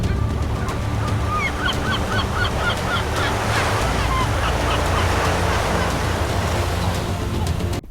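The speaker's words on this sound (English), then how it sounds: "The sound of crashing waves, a little wind, and a soft layer of music" Ocean waves crash and wash continuously under steady wind, with geese honking in bursts near the start and a soft musical layer underneath, dense and loud throughout before cutting off at the end.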